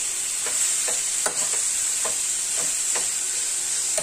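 Turnip bhurji is stirred in a hot pan with turmeric, under a constant hissing sizzle, with soft spatula scrapes recurring at a loose, even rhythm.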